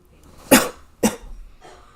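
Two sharp coughs from sick family members in a home, a second apart, somewhat distant in the background, followed by a fainter breathy sound.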